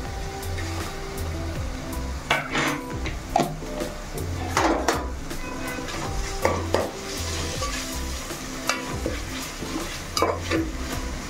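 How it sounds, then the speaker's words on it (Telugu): Ginger garlic paste frying in a pan for bagara rice, with a steady close sizzle and repeated scraping stir strokes from a spoon against the pan, alone with no talk. "పేస్ట్ వేసుకున్నాక కొంచెం కలుపుకోండి, కొంచెం వేగనివ్వండి"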